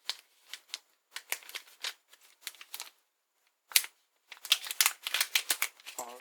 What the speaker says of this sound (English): So we have to peel this to get this opened.